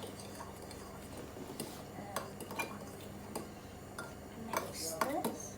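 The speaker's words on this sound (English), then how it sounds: "You gonna mix together now your ingredients" Ham omelette ingredients are mixed in a bowl with a utensil. Light clinks, taps and scrapes come close and quiet at an uneven pace, with faint low voices and a brief rattle near the end.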